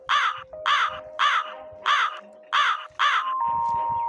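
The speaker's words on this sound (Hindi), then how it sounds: "उसी वक्त बाहर कौवा चिल्लाता है" A crow caws six times outdoors in a steady rhythm of loud, harsh calls, with a sustained electronic tone running underneath.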